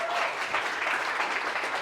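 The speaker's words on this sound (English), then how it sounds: "So once again, big applause for Sergio" Brief, steady applause from an audience for a presenter at a design talk, a dense wash of clapping at moderate volume.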